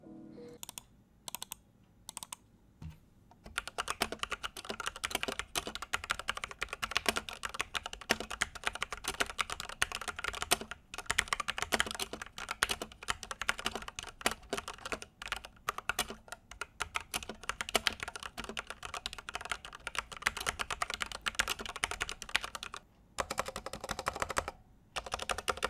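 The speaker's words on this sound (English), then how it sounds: "let's go to the typing sound test" Rapid clacky keystrokes on an XVX MK61 60% mechanical keyboard with Gateron Yellow switches, starting with a few isolated presses and then continuous fast typing with brief pauses, close and clear.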